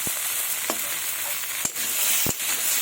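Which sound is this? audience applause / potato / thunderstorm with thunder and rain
potato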